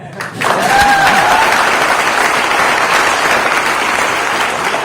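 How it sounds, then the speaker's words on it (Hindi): A room full of people at an office meeting of Glaze Trading India bursts into loud, sustained applause that starts abruptly and keeps up at a steady level to the end, with a few brief voices underneath. "ताली मत बजाओगे भाई"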